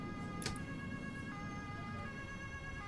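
A police car siren in the bus simulator game OMSI 2, a steady wailing tone held throughout under a constant engine and road rumble, with a brief sharp click near the start.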